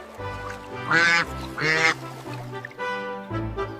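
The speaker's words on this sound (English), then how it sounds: "Just then, a white duck came swimming by." A white duck quacks in a children's fairy-tale setting, with two loud, bright nasal bursts close up, followed by softer, quieter calls toward the end.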